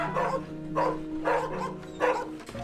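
Rescued street dogs in a backyard in Romania bark in loud, repeated bursts about four times over a steady background hum, close by, with a faint whimpering quality between barks.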